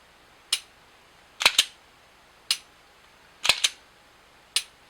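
Sig pistol triggers clicking crisply, six sharp close mechanical snaps spaced across the stretch, some in quick pairs, loud and isolated with no talking.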